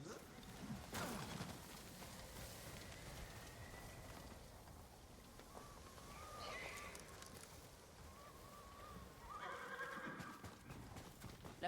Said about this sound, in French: Laissons les chevaux ici